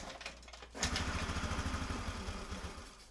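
Small Honda scooter engine being revived after repair: a quiet background hum, then after under a second it kicks in to a steady, rapid putter that holds at a low idle.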